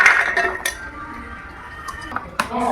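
Metal and steel vessels clink and scrape as washed coconut pieces are moved into another pot in a village kitchen, with sharp intermittent clatters over a quiet background.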